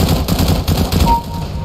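Rapid automatic fire from a FAMAS rifle in the shooter game CS20, a loud, fast burst of shots running straight through the clip with no pause.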